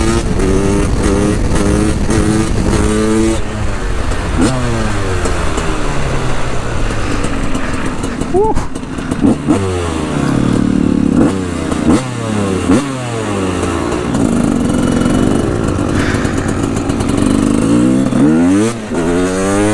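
A KTM EXC 300 two-stroke dirt bike revs hard and repeatedly, its raspy engine note sweeping up and down through the gears, loud and close for the whole stretch with no talking.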